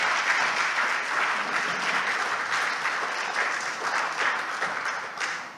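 A church congregation breaks into sustained applause during a sermon, a dense wash of many hands clapping that rises, holds for around five seconds and then tapers off.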